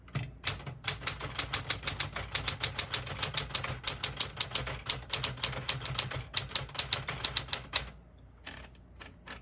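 A 1967 Smith-Corona Super Sterling portable typewriter with Elite typeface typing a sentence: a rapid, fairly even run of sharp keystroke clacks, close and distinct, then a pause and a couple of final strikes.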